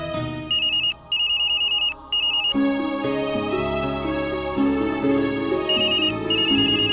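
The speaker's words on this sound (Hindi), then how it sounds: "अक्षरा का फोन" Phone ringtone for an incoming call, a bright repeating electronic tone in bursts with brief gaps, over a dramatic background music score.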